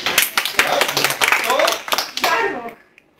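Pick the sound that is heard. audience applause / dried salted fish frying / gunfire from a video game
audience applause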